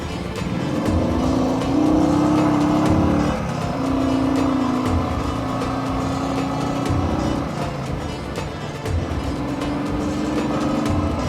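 Vehicle engine on a mountain road near Kolukkumalai, Munnar, a steady loud drone with a rising hum through most of the stretch, no talk.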